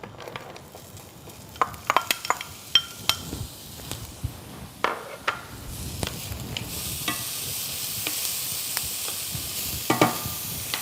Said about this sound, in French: On va faire suer donc la garniture aromatique.